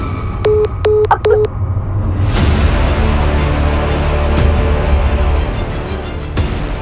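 A phone call is cut off in a Hindi TV drama: a few short electronic beeps sound in quick succession, then give way to a loud swell of dramatic music with sharp hits.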